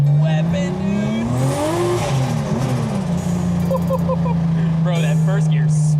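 A sports car accelerates hard in first gear, its loud engine note climbing steadily in pitch before settling, while people's voices come through over the roar.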